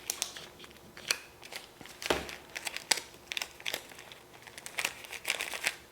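A pumpkin bread loaf topped with walnuts is wrapped by hand, giving close, soft crinkling and rustling with scattered sharper crackles throughout.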